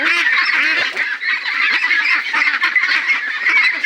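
A large flock of ducks on a crowded duck farm honks and quacks nonstop, many overlapping calls forming a loud, dense chorus close by.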